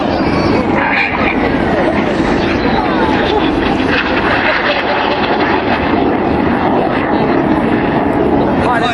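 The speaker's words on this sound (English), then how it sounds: "They're going to cross 3 times in opposing 360-degree 6G turns in the carousel." Red Arrows jet aircraft roar continuously overhead during a display at the Sunderland International Airshow, a loud, broad engine rush that stays steady throughout, with no clear voice over it.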